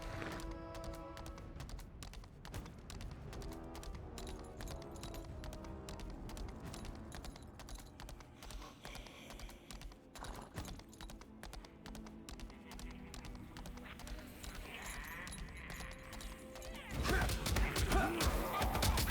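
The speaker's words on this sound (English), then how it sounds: "On my horse." Horse hooves clip-clop steadily in the Lost Ark video game, a fast rhythmic run of faint taps under game sounds, swelling louder near the end.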